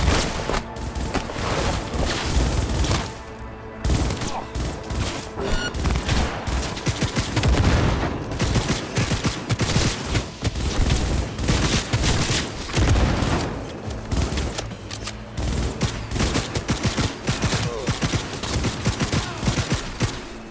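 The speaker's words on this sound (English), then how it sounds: "They're here! They're opening fire!" Gunfire in Cyberpunk 2077, sustained heavy fusillades with bursts, booms and overlapping shots, loud and continuous for the whole stretch, with no talk.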